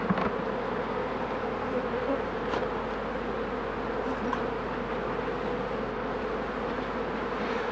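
Honeybees swarming around beehive supers, a dense, continuous close buzzing hum of many insects at steady loudness, with no talk.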